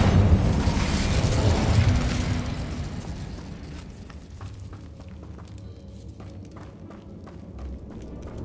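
Incendio fire spell cast in Hogwarts Legacy: a loud, low rumbling burst that roars for about two seconds, then settles into a quieter crackling, hissing tail with faint scattered clicks.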